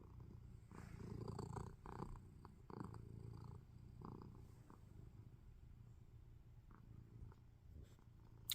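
A cat purrs close up, a soft low rumbling that rises and falls in steady rhythmic waves, fairly quiet with no voices.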